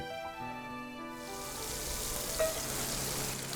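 Pork belly, then mud crab roe, meat and shells, stir-fry in a hot wok, a loud, close sizzle that swells after the first second and holds steady as the ingredients are tossed.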